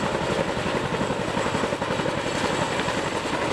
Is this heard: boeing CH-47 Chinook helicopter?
yes